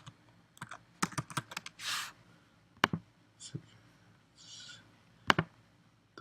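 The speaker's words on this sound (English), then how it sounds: "And yeah, I do have to type them back in." Keys on a computer keyboard clack in quick, uneven bursts close by, separated by short pauses and a couple of soft brushing sounds, all fairly quiet and with no talking.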